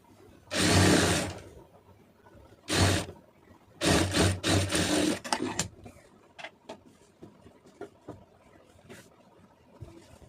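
A sewing machine stitches a cotton blouse lining in bursts: a loud run of about a second, a short spurt, then a longer stitching run, followed by quieter handling clicks and faint sounds.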